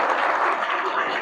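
Students applauding in a classroom, a brief dense patter of many hands clapping at once, with voices mixed in.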